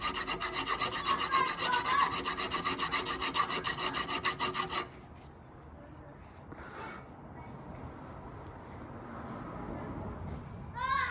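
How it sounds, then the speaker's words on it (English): A hacksaw cuts through a strut on a Harley-Davidson Sportster, making a rapid, loud rasping stroke rhythm for about five seconds. Then the sawing stops, leaving quieter handling noises and light background sounds. "I'm going to use my hacksaw to cut the rest of it and finish the job off"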